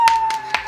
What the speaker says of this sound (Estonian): Meil on vaja nüüd suurt aplausi